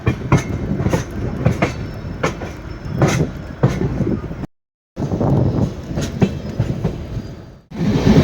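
A Mangalore to Yesvantpur express passenger train rolls along the rails with rhythmic clicking from the wheels over track joints, loud and close, with a brief dropout partway through.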